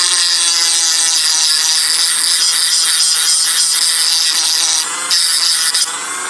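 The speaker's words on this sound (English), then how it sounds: "Put the grinding stone wheel in. Okay. Then use the grinding stone." A Dremel 8220 cordless rotary tool spins a grinding stone wheel, giving a loud, close, steady high-pitched whine with harmonic ringing and a brief dip and surge near the end, with no talking.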